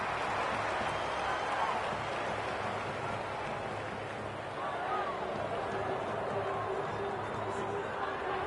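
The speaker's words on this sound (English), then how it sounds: "The crowd noise tells you all you need to know" Dense, steady roar of a large crowd at an Australian football match, S-port against Adelaide, filling the whole stretch at an even level with broad murmur and cheering texture throughout.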